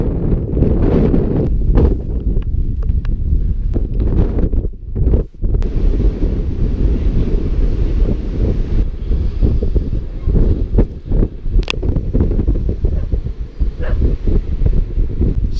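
Strong wind buffets the microphone aboard a 40ft narrowboat at sea off Portland Bill, a constant loud low roar with gusty rustling flutters and a few brief dips, no speech.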